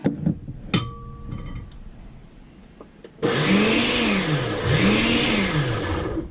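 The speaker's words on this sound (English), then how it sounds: "So I'm going to grind up my cranberries here." A kitchen grinder grinds up cranberries, starting abruptly after a few quiet clicks and handling noises, then a loud continuous whirring motor whose pitch dips and rises twice as the load shifts.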